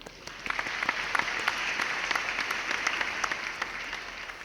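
An audience applauds a student team at a design competition awards event, steady scattered clapping from many hands at moderate volume with no talking over it.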